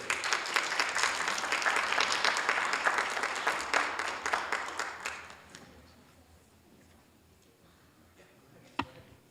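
Audience applause fills a city council meeting for about five seconds, dense and steady, then thins into scattered claps and quiet room tone, with one sharp knock near the end.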